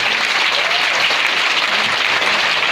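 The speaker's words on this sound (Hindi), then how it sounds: "ऐसे पुत्रों के लिए जोरदार तालियां हो" An audience at a live Shrimad Devi Bhagwat Katha gathering claps hard and fast without a break, a dense loud roar of applause with no voices over it.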